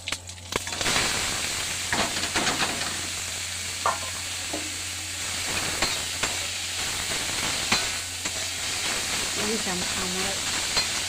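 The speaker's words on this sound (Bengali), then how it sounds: "এই যে শাকটা এর মধ্যে দিয়ে দেবো, তেলটা হয়ে গেছে।" Greens dropped into hot oil in a pan set off a sudden loud sizzle that keeps hissing steadily, with spoon scrapes and stirring clinks throughout and a brief voice near the end.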